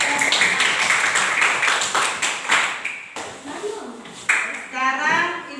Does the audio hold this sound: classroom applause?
yes